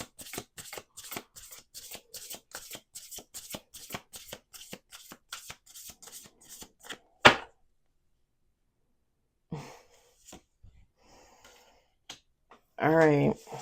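Oracle cards being shuffled in a steady run of quick riffling flicks for about seven seconds, then a sharp snap, a pause, and a few faint handling rustles near the end, close and fairly quiet.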